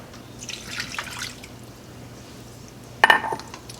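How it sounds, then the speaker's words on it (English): Milk is poured into a pan holding melting butter and a brick of cream cheese, a soft liquid splashing and trickling up close, with a sharper clink and splash near the end and no talk. "And then we're going to add 3/4 cup of milk."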